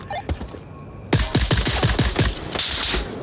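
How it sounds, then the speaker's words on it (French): Gunfire in the video game Onward VR, a rapid string of close, loud shots fired in quick succession after a quiet start, continuing as dense automatic bursts. "je dépense toutes mes balles pour tuer un mec"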